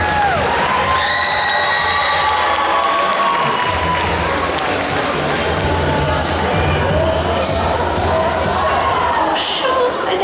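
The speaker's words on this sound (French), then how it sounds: "On l'applaudit fort" A crowd at a cosplay contest and costume parade applauds and cheers a cosplayer, loud sustained clapping with shouts and whistles throughout, voices calling out over the applause.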